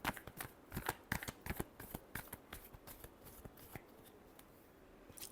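Tarot cards are shuffled by hand in a quick run of crisp riffling flutters and taps, close and clear, with no voices.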